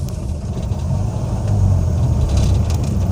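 A car accelerates in third gear using half clutch, giving a low, steady engine drone that swells slightly as speed builds, heard from inside the cabin with no talk over it.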